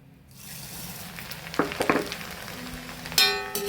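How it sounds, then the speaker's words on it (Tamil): White flattened rice (aval) frying in hot oil, a soft continuous sizzle with brief crackling bursts and stirring clinks, close and alone. "கைப்பிடி அளவுக்கு அவல் எடுத்துருக்கேன், வெள்ளை அவல். அதையும் பொரிச்சு எடுத்துக்கோம்."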